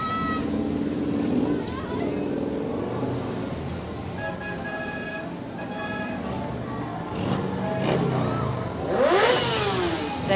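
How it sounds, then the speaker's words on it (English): Big engines rev and roar at a street parade celebrating Israel in 2022, a loud sustained drone with rising revs near the end, heard over crowd noise and some talk. "Let those engines roar."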